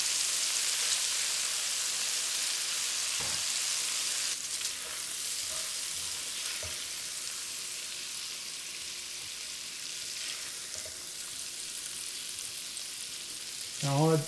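Meat frying in a pot for Cajun jambalaya, sizzling steadily and close up with occasional stirring and scraping sounds, ending in a louder scrape; no talk.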